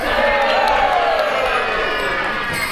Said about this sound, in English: That's more of a cheer than a reassuring noise